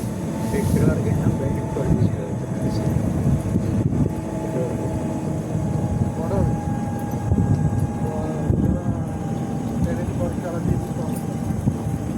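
A train running at Kailasagiri hill in Visakhapatnam gives a steady, unbroken mechanical rumble throughout, with faint voices mixed in.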